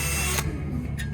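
A power drill bores a starter hole into wooden fascia for a fire pit table, giving a brief, close whirring burst with a sharp catch partway through.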